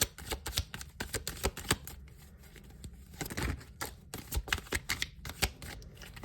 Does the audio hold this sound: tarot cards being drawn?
yes